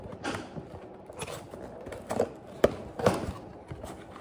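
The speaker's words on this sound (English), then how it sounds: "He's doing laundry and the washer's finally stopping." A home washing machine winding down after a laundry cycle, giving off irregular creaks, soft knocks and clicking mechanical noises at low to moderate loudness, with a few sharper taps near the middle.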